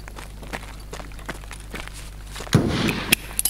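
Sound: flashbang grenade exploding in video game Escape from Tarkov

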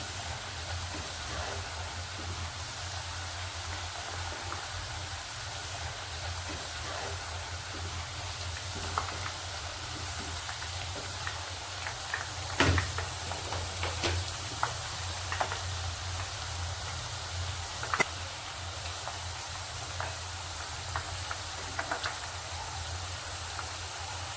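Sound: potato chips frying in oil

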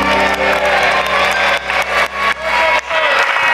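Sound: studio audience applause

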